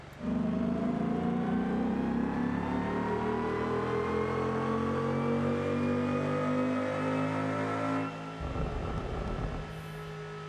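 A car engine in the BeamNG driving game, about 300 horsepower, droning steadily and climbing in pitch as it accelerates, then briefly dipping as if shifting before continuing.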